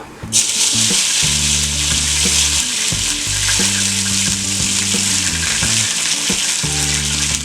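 Cumin seeds, dried red chillies and curry leaves fry in hot oil for a tempering, giving a loud, continuous sizzle close by, with no talking.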